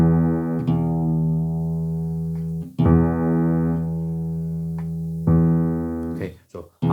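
Low E bass note, sustained with rich harmonics, played three times in long even swells with short breaks, ending in brief clicks and noise.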